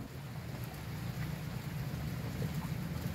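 Steady rain falls outdoors as a continuous hiss with a low rumbling undertone, fairly quiet and even, with no voices.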